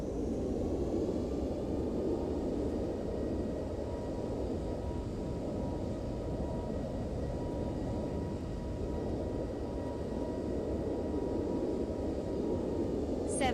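Reverse thrust from a ToLiSs A320neo landing at Muscat in the X-Plane 12 simulator: a loud, steady, broad roar that holds unbroken from start to finish with no voices over it.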